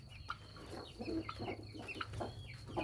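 A broody hen clucks softly and repeatedly up close, low murmuring calls in a steady rhythm over a quiet background hum.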